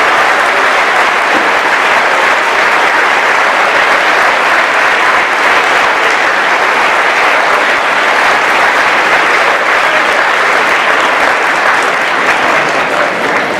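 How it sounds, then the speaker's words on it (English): Loud, sustained applause from a crowd honoring veterans and servicemen at a Wreaths Across America ceremony at a high school, dense even clapping filling the whole stretch without a break. "Big round of applause."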